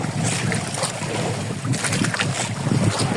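A fishing boat moves across open water, a steady engine-like rumble mixed with wind buffeting and splashing, with no one talking.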